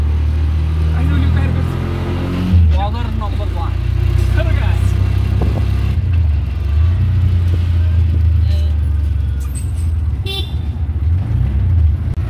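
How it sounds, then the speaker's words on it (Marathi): An auto rickshaw driving along a road with passengers aboard, its engine droning steadily and loud, with horn toots and passing traffic as people talk and shout over it. "रिक्षामध्ये बसलो आहेत आणि आता गाडी घेऊन चाललो"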